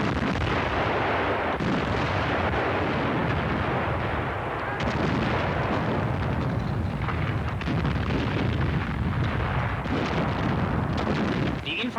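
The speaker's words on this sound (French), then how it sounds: "Vorbereitungsfeuer der Artillerie zu einem Gegenstoß." Artillery preparatory fire before a counterattack on the front south of Lake Ladoga, a dense, continuous rumble of distant booms and blasts with rough, wind-buffeted noise, in an old archival recording with someone narrating over it.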